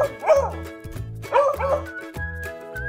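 A beagle barks and bays in two drawn-out, howling bursts, close and loud, with steady background music playing beneath.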